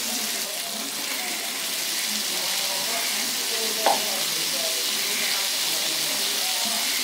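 Marinated soybean chunks fry in a spice masala with a dense, steady sizzle close up. A single sharp clink of a utensil comes midway.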